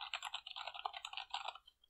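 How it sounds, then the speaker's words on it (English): A clicky Redragon keyboard with raised keys is typed on slowly. A quick, uneven run of sharp, close clicks sounds on its own. "I'm typing slow so y'all don't have to hear how much it clicks,"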